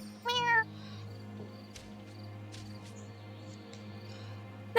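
A cartoon cat in the video game Wylde Flowers lets out a single short, bright meow at the start, then low game ambience and music play quietly behind.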